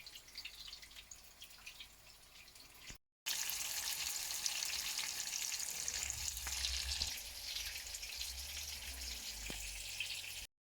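Homemade cutlets fry in a pan at home, giving a continuous close sizzle and spatter that cuts out briefly, then returns louder with occasional crackles and pops, with no talking.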